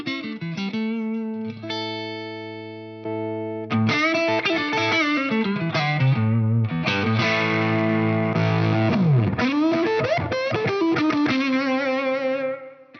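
Electric guitar played through fuzz and overdrive pedals in series, heavily distorted and fuzzy, with sustained chords and note runs ringing out loudly and steadily, with no talking.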